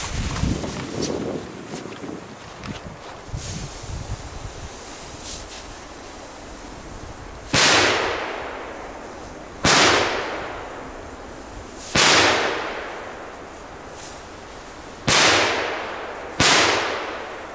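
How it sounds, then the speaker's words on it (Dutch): Five loud firework bangs burst one after another in Belgium, each a sharp crack with a long hissing decay, spaced a couple of seconds apart after a stretch of windy outdoor noise. "Zieke knallers, man."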